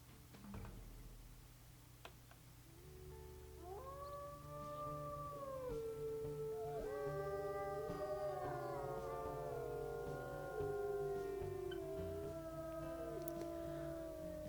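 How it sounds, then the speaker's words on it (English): Several wolves in WolfQuest raise a long dispersal howl: drawn-out, wavering tones that rise and fall, overlapping in a chorus that builds and holds steady over a faint low hum. "Lavender does hear a dispersal howling back."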